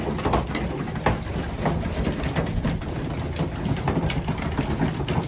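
Soft, low cooing of racing pigeons drifts over a steady mechanical hum, with scattered wing flutters and clicks throughout.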